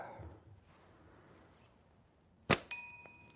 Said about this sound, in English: Ring the bell, win a prize.